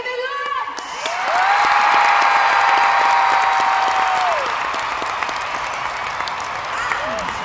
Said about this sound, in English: Please join me in a roaring round of applause for our principal conductor, Mr. David Lutz!